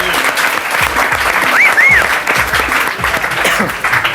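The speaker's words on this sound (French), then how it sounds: "Alors, vous pouvez l'applaudir." A television studio audience applauds the singer, loud and continuous clapping filling the room, with a brief whistle cutting through the middle and a voice faintly under the clapping.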